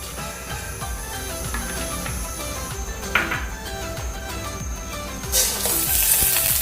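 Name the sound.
mustard seeds spluttering in hot coconut oil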